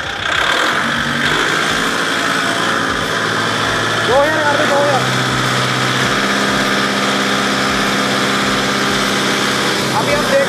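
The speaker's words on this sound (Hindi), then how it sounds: "तो अभी हम नॉर्मली जो 2000 इंजन RPM पे चलाते हैं जो ट्रैक्टर, वहाँ उस कंडीशन में आपको वाइब्रेशन आपको करके दिखाएंगे।" Kubota 5502 MU 4x4 tractor engine running steadily near 2000 RPM, a loud continuous mechanical drone throughout, with someone talking over it.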